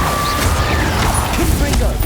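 Confringo and Incendio spells being cast in Hogwarts Legacy: loud, dense blasts and fiery crackling keep going without a break under the noise of combat, with short rattling impacts.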